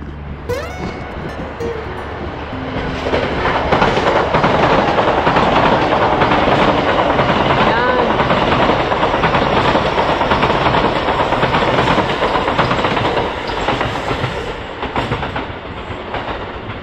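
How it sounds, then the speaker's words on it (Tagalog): A train pulls into Kofu station in Yamanashi, Japan, with a loud, steady rumble and rolling rail clatter building after the first few seconds and holding throughout amid station ambience. "Ayan, ayan na ang train."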